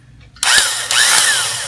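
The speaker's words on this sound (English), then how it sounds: "1/4-inch electric drill." A Black & Decker 1/4-inch AC/DC electric drill, a yard-sale find, whirs up abruptly and runs loud and close with a high motor whine, dipping briefly before spinning steadily again.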